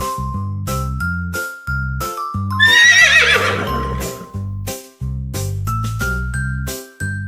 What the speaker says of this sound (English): Neigh, neigh, it's a horse.